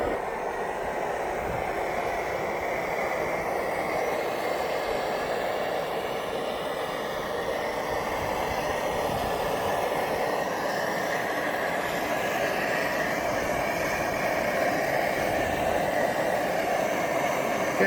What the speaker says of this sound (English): You should be able to tell when it needs more pumps because the sound of the gas will be different when burning.